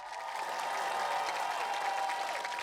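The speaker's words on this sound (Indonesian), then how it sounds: "Tepuk tangan dong." Studio audience applause on a comedy news show, a short, even burst of crowd clapping heard at moderate distance without talk over it.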